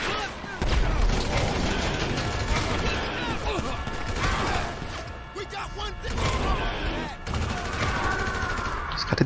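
Sustained gunfire in GTA V, with rapid automatic bursts and heavy blasts that come and go across several seconds, loud and chaotic, with mechanical clatter and crashing debris between the volleys.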